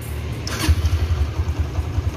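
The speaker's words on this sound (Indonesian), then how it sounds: "Kalau Mega Pro itu enak, tinggal kita starter aja kayak gini langsung jreng banget nih." Honda Mega Pro Primus motorcycle started with the electric starter, a brief whir of the starter and then the engine catching into a steady, pulsing idle close by, with no speech.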